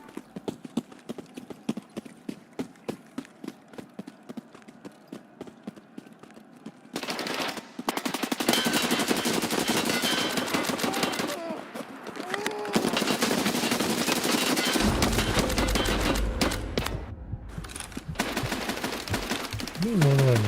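Rapid video game gunfire, a quick ticking run of shots at first, then dense, loud bursts of automatic fire with brief gaps between volleys.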